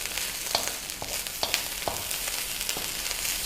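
Chicken fried rice stir-fried in a wok over gas, a steady loud sizzle with occasional scraping and tossing clicks from the pan, close up.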